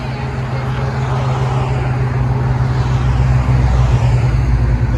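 Ford F-150 with a 5.0 Coyote V8 and its muffler removed, its exhaust a loud, steady, deep drone that swells slightly toward the end, close by with no talking.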